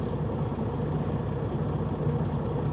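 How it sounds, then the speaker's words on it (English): A vehicle engine idles steadily, a low, muffled rumble that holds at an even level throughout with no voices over it. "The engine sounds muffled enough."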